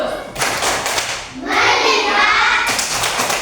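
A class of third-grade pupils claps together in a quick rhythmic pattern, bursts of hand claps close by with brief pauses between sets.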